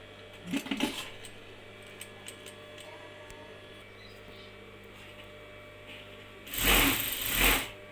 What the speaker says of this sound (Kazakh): осылай етегін қайырып тігіп шығамыз